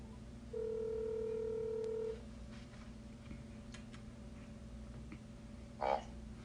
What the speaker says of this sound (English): Let me get Neil on the phone.